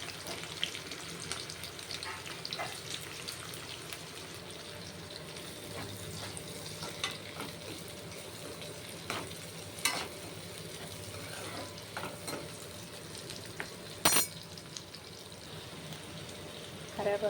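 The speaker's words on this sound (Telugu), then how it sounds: "ఇప్పుడైతే పచ్చిమిర్చి వేసుకుంటున్నాను. ఆనియన్స్ వేసుకుంటున్నా." Green chillies and onions sizzling in hot oil for egg fried rice, a steady close crackle with occasional stirring clinks and scrapes, no talk.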